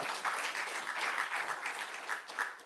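Live audience applause at a Minneapolis live-audience special report, a steady dense wash of clapping lasting throughout, moderately loud with a few brighter swells.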